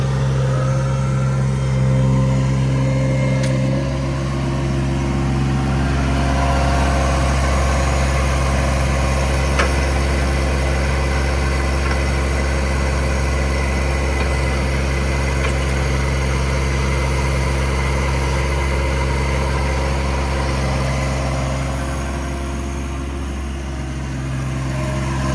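A John Deere 1025R compact tractor idles steadily nearby for the whole stretch, its deep, even engine drone holding constant with no talking over it.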